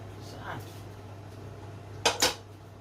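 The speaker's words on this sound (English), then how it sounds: "I'm just going to give that a nice stir." A spoon stirs tomato sauce in a pot, with a soft scrape early on, then two quick, close metallic clinks of utensil against the pot near the end over a faint steady hum.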